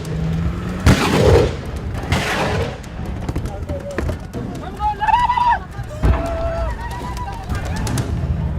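Rifle shots crack out during an ambush on a camp in South Sudan, a few sharp reports scattered among shouting voices, rustling and movement, loud and close.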